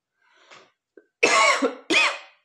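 A faint breath and small throat noise, then two loud, harsh coughs close by, one right after the other.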